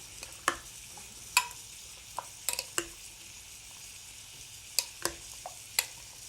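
Vegetables stirred and fried in a pan: a steady soft sizzle with several sharp clinks and scrapes of a utensil against the pan, spaced irregularly through the stir, with no talking.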